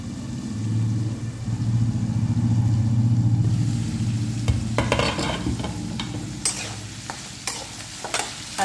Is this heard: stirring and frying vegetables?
yes